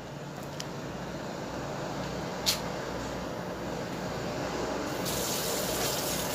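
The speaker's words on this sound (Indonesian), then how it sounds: "Terus ya saya itu mau bilas dulu ini tutupnya menggunakan air yang bersih." Clean tap water running over a drinking bottle lid as it is rinsed, a steady, continuous splashing gush that stays level throughout, with no voices.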